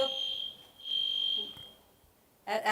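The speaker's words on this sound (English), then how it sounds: "Some sort of fire alarm." A fire alarm sounds with a steady high-pitched electronic tone, loud and continuous for about two seconds before fading, then a brief burst returns at the end as voices speak faintly in the room.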